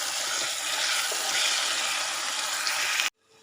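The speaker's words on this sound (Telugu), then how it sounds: "ఈ పేస్ట్తో పాటు ఉల్లిపాయ కూడా ఎర్రగా ఫ్రై అవుతుంది" Onion and ginger-garlic paste fry slowly in a rice cooker, giving a steady close sizzling hiss that stops abruptly just before the end.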